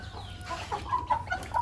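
Pamangon breed chickens kept for breeding, soft short clucks and calls at moderate distance over a low background hum, several brief notes in quick succession.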